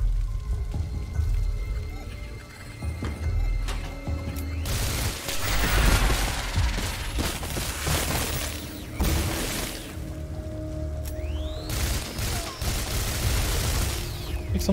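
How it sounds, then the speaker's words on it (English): Bursts of explosions and gunfire in the Singularity PC shooter as enemies blow up, loud broadband blasts around five, nine and twelve seconds over a steady mechanical game-sound bed, with no talking. "so they like explode and kill each other"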